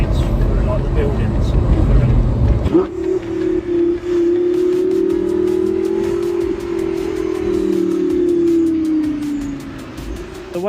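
Lamborghini Gallardo engine echoing off surrounding buildings: a loud rumble that drops into a sustained droning tone holding for several seconds before fading, with no talking over it.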